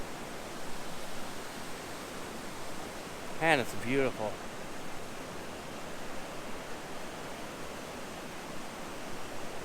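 A decent-sized waterfall, more a rock slide than a drop, on the Black River in Michigan's Ottawa National Forest: an even, soft rushing hiss throughout, with a person briefly speaking partway through.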